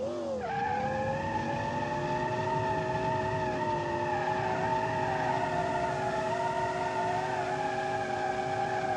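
A twin-turbo V12 car in the BeamNG driving game spins in donuts, its engine holding a high, sustained whine and its tires squealing continuously, loud and close.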